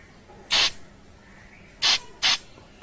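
Air blown through a passage of a Mikuni carburetor comes as three short, sharp hissing puffs, one early and two close together near the end, loud and close with quiet between.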